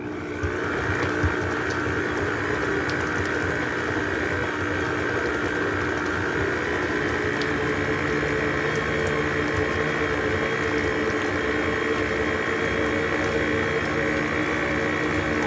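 A steady, continuous mechanical whir of an electric mixer creaming butter and sugar, with a watery churning texture, runs unbroken and fairly loud throughout, with no voices.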